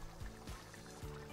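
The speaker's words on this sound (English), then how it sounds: "I'm gonna give it a little bit more palm oil." Palm oil poured into a pan of Liberian potato greens, a faint, brief trickle with a few soft splashy pulses and no talking.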